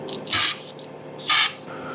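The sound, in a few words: brake cleaner sprayed through clutch rubber line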